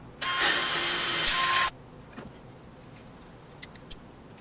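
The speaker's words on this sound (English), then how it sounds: "after you're done drilling the holes" A power drill bores holes through a plastic Xbox 360 controller shell, one loud steady whining burst of about a second and a half, followed by quiet with a few faint clicks and taps.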